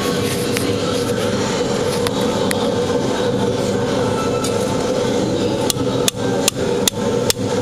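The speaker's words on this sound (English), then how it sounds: "So all I've got to do is tap that on." A hammer taps a metal bar into the end of a bicycle fork stanchion, a few sharp metallic knocks toward the end over steady workshop background noise.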